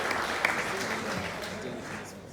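Wedding guests clap steadily at moderate volume for a couple of seconds, a soft continuous patter of many hands with murmuring underneath.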